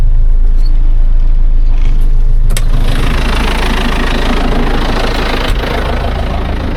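An MTZ 1025.2 tractor engine pulling a Hermes 2.7 disc harrow through soy runs steadily close by, a loud low rumbling drone that shifts slightly in pitch, with a couple of faint clanks over it.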